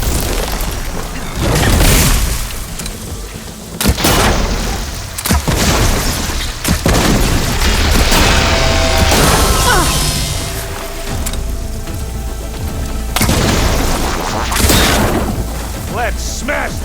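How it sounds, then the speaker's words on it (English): Loud, heavy booms, crashes and mechanical clanking erupt repeatedly as robotic machines are smashed in Horizon Forbidden West combat, dense and continuous, with voices calling out amid the chaos. "Let's smash these machines!"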